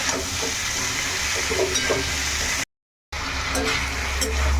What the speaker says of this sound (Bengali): এটা দেওয়ার পরে এইবারে এটাকে বেশ ভালো করে একটু কষিয়ে দেবো, যাতে করে কাঁচা গন্ধটা এর থেকে চলে যায়।